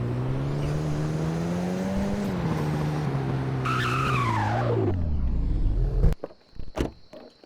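A GMC Yukon is driven in Roblox, with a steady engine drone shifting pitch as it speeds up and slows, then a rising tire squeal before the sound cuts out into brief sharp clicks.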